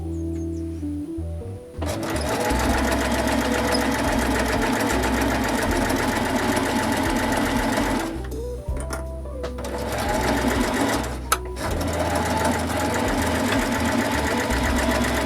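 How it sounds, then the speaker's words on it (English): A sewing machine stitches the top seam of a corset-style top in a long, steady, close whirring run, pausing briefly twice before continuing. "continue sewing round and back down the other side"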